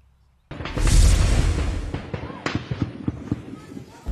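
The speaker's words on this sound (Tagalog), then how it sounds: "Umalingaw-ngaw ang sunod-sunod na putok ng baril sa barangay Kuloy sa bayan ng Sharif Agua kaninang umaga." Successive gunshots during a clash between military and an armed group in a Sharif Aguak barangay, an abrupt loud burst followed by a rapid irregular string of sharp distant cracks and booms.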